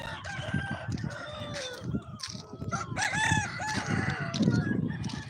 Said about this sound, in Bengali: ওটা হচ্ছে এখন মোরগ লড়াই হচ্ছে